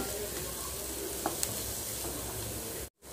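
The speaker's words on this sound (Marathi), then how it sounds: "पत्ताकोबी छान तेलामध्ये परतून घेतलेला आहे" Shredded cabbage with green chili and spring onion stir-fries in hot oil for Maggi noodles, a continuous close sizzle with a couple of faint utensil taps before a brief cut.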